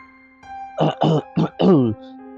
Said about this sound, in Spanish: cuando de pronto oí a alguien toser a mi lado